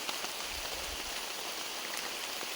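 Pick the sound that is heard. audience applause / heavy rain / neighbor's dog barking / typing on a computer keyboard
heavy rain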